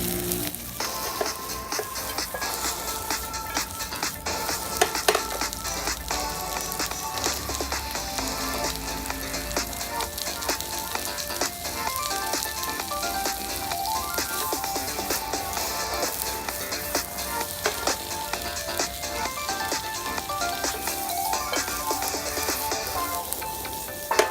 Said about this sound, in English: Saute asparagus and babycorn until soft.